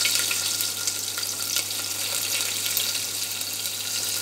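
Curry leaves and chopped onion sizzle in hot oil for a Gujarati tuvar dish, a loud, steady, close hiss that continues without a break and with no talking.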